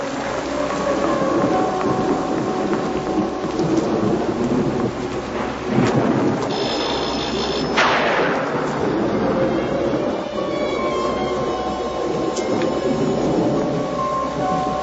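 A thunderstorm pours steady, heavy rain while thunder rumbles and rolls, with a sharper, louder crack near the middle, in a 1991 Dark Shadows drama scene with no voices.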